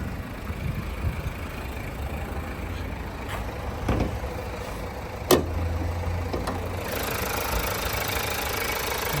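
A 2014 Mazda CX-5 with a 2.2-litre diesel and automatic gearbox idles steadily, a low continuous diesel rumble with faint knocking texture and a couple of brief sharp clicks, heard alone without voices.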